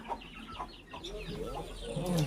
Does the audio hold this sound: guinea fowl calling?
yes